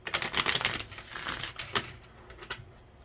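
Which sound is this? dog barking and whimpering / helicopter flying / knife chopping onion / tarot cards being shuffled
tarot cards being shuffled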